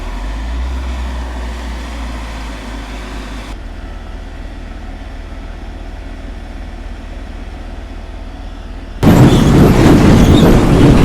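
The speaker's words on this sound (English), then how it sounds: "So that lorry's going to back underneath now." A lorry reversing under a sugar beet loader on a farm: a steady low diesel drone that shifts in tone partway through, then a sudden loud, rough roar near the end.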